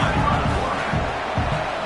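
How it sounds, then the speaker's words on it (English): Football stadium crowd roaring steadily as the home defense plays down in the red zone, a dense continuous swell of cheering and noise with rhythmic low pulses, loud and enveloping. "the crowd coming to life here, trying to help this defense down in the red zone"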